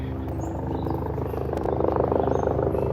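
A low, throbbing helicopter drone overhead at the New York Botanical Garden in the Bronx fills the clip, its rotor pulsing steadily and growing slightly louder toward the end.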